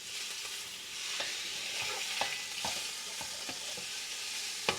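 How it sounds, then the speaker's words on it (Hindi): Thin slices of chicken sizzle in a pan while a spatula scrapes and taps through them in irregular knocks, one sharper clack near the end; close, steady frying with no talk. "जब चिकन को आपने इस तरह भून लिया ना"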